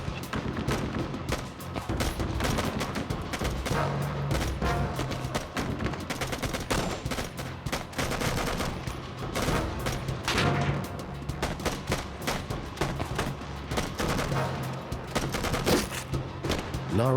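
Enemy gunfire in a reenactment of a Navy SEAL rescue mission: dense, continuous volleys of rifle and machine-gun fire crackle loudly throughout, with no voices.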